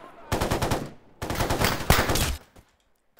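Player's gun firing in the STALKER video game: two sustained bursts of rapid automatic gunfire, loud and close, separated by a brief pause, then a short isolated shot before silence.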